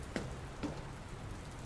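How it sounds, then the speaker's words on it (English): Steady rain falls throughout an indoor scene in the video game Dr. Langeskov, The Tiger, and The Terribly Cursed Emerald, a continuous patter with two soft knocks near the start. "I don't think it's supposed to still be raining"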